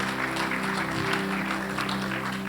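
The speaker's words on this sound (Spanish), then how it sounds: "Fuerte el aplauso al Señor." A church congregation claps together during a worship service. Continuous, dense applause sits over a low droning hum and sustained tones, steady throughout.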